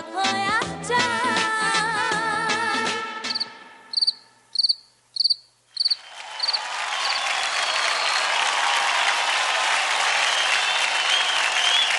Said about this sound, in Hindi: ज़्यादा तालियां हो जाए मोहिना के लिए